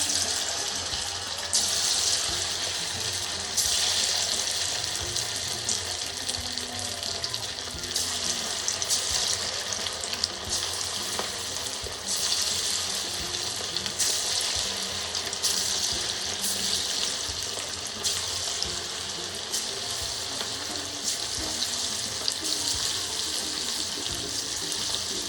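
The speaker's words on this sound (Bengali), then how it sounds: "কড়াই তেল তেতে গিয়েছে, আমি এবারে মাংসগুলো এক এক করে আমি তেলের মধ্যে দিয়ে দেব" Chicken pieces for chili chicken frying in hot oil in a wok, a steady loud sizzle and crackle that runs unbroken and close throughout, with no voices.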